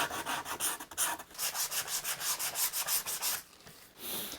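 Guitar body wood is sanded by hand with 80 grit paper on a soft block, giving a steady, close rasping stroke repeated roughly every quarter second before slowing near the end.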